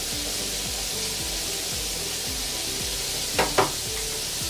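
Pineapple chicken drumettes sizzle steadily in hot frying oil, a dense continuous crackle with a couple of brief louder pops near the end, close and alone with no talk.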